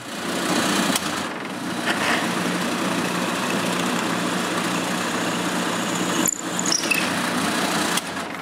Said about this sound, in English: I continue by drilling a hole in the middle of each piece of wood.